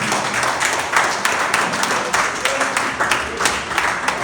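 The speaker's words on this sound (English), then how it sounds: "Please, a round of applause for Emeka Nobis." A live audience at a motivational talk breaks into steady applause, dense clapping that runs continuously for a few seconds at a lively, close level.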